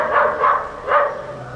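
Several dogs bark in three short, loud, close bursts, with a pause before the last, then a quieter tail.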